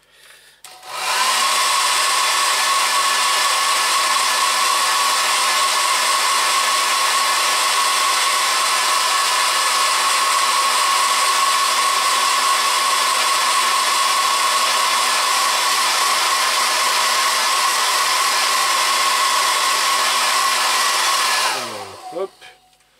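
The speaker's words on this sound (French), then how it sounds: "je vais mettre là par contre un petit coup de sèche-cheveux quand même pour le faire sécher." A hair dryer blows steadily for about twenty seconds, drying a part during assembly of a Suzuki RG250 motorcycle, loud and constant with a whining tone, switching on at the start and off at the end.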